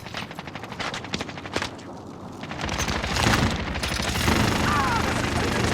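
Rapid automatic gunfire from Call of Duty Warzone on PS5, with bursts of dense, repeating shots building into a loud, continuous fusillade with booming impacts over nearly six seconds.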